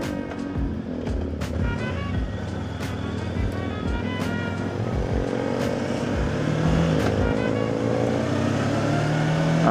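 Traffic on Aguinaldo Highway from a moving Voge 525 DSX motorcycle: a steady engine drone with rising revs, surrounded by the rumble of nearby cars and periodic sharp bursts, with no speech.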